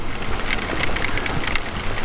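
Heavy, steady rain pours down while riding, a dense continuous hiss with scattered droplet hits close by, no voices over it.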